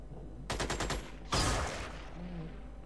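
A burst of rapid gunfire from the turn-based strategy game Xenonauts: about six quick shots in a tight rhythm, then a louder single crack or impact that rings out and fades, all fairly close with no talking.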